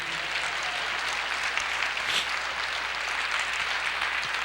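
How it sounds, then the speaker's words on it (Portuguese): Church congregation applauding together, a dense, steady wash of clapping held at even loudness throughout, with no voices standing out above it. "Você pode aplaudir o Senhor"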